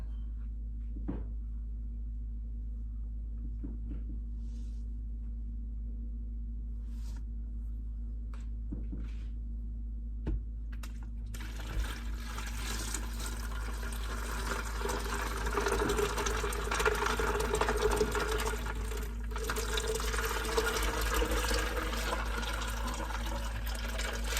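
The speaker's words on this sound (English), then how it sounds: "pour the hot tea into the prepared pitcher" Hot Southern-style sweet tea is poured into a prepared pitcher, a steady liquid rush that starts about halfway through after a few quiet clinks and handling sounds, continuing close and moderately loud to the end.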